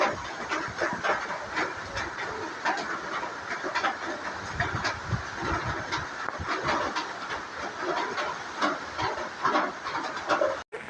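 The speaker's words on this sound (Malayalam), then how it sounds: "മഴയെന്ന് പറഞ്ഞത് കാറ്റോട് കൂടിയിട്ടുള്ള മഴയായിരുന്നേ" Rain driven by strong wind in a rural village during the monsoon, a steady dense hiss with gusty swells that continues close and loud throughout, with no voices.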